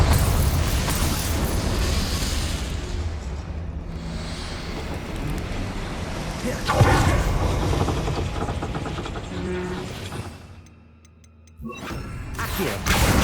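A Confringo blasting spell explodes in Hogwarts Legacy on PS5, a dense roaring boom that swells midway, dips into near silence, then surges back loud.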